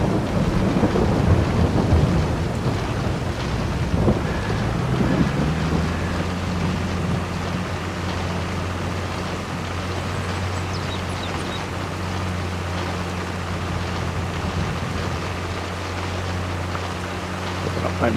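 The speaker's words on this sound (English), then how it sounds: "Kind of a light drizzle right now." Steady in-game rain from Farming Simulator 22 on an Ohio farm, a constant wash of drizzle heard alongside rumbling thunder and a low steady engine-like drone, with no talking.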